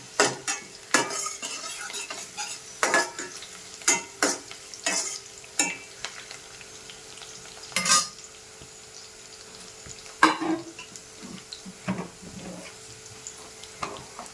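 Crushed garlic slices stirred and sizzling in a pan for gongura pachadi, with a soft steady fry under repeated scraping and clinking of a spoon against the pan, close and moderately loud, no talking.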